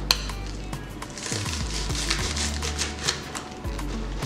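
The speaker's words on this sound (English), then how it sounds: "now I'm gonna chop up the spring onions" Spring onions are chopped with a knife on a board in a home kitchen, with a quick series of light, sharp taps close by, uneven in rhythm, over a low steady hum and with no talking.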